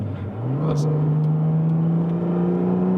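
A Porsche 718 with a 4.0L engine and Fabspeed valved exhaust revs up from a low rumble into a steady, climbing drone held around mid revs, loud and close, smooth and sustained.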